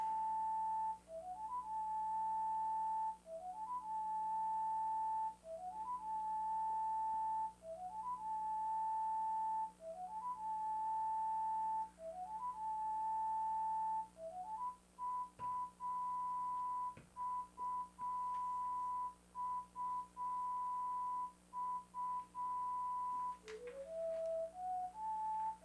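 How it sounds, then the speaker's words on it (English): A person whistles a repeated short tune, each phrase opening with a quick upward slide into a held note, cycling about every two and a half seconds, clear and fairly quiet against a faint steady hum, with a final rising run near the end. "That was good whistling you were doing there"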